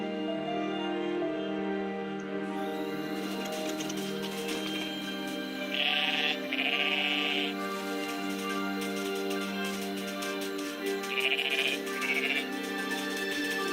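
Sheep bleating in the video game Everything, two short bursts around six and eleven seconds standing out over a steady droning music bed, fairly close and clear.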